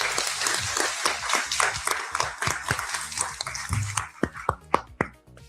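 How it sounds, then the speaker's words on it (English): A small audience claps for teammates, scattered close handclaps that thin into a few separate claps toward the end, with some talking underneath. "I just have to get another round of applause for our teammates that are out here"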